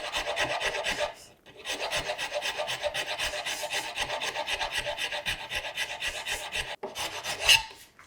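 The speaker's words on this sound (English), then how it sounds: "Hit that with a rasp." A hand rasp files the wooden base of a serpentine chest of drawers with ogee bracket feet, giving steady rhythmic scraping strokes, close and loud, with a short pause near the start and another near the end.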